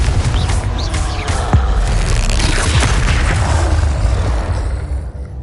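A Confringo fire spell from the video game Hogwarts Legacy bursts with a loud, full boom that rumbles on for several seconds before tapering off near the end, heard alone without any talking.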